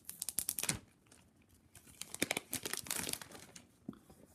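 A tag peeled off an iPhone 7 box, heard up close as crisp crinkling and tearing in quick bursts, with a short quiet gap before a second longer rip.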